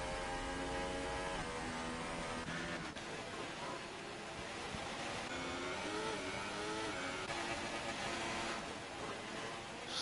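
An F1 2018 racing game car at Baku roars at a steady high pitch throughout, its engine note shifting as it rises and drops, with a constant musical drone underneath.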